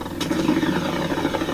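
Spaceship impulse engines at minimum thrust in the Mass Effect Andromeda video game make a steady, loud mechanical drone with a faint rattling texture, continuous and without pauses.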